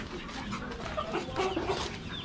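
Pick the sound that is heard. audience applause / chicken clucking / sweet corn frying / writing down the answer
chicken clucking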